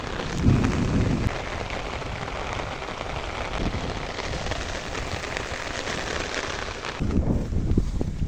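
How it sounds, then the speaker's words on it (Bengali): Heavy rain pours steadily at a riverside fishing spot, a dense roaring hiss with a few deeper rumbles, no voices over it. "দেখতে পাচ্ছেন যে বৃষ্টি চলে আইছে"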